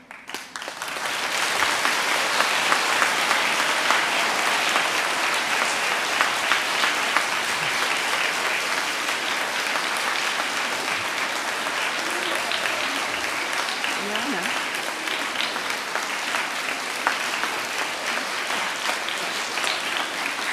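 Sustained applause from children and adults at a school assembly, a dense, steady wash of many hands clapping that holds evenly throughout, with no voices standing out.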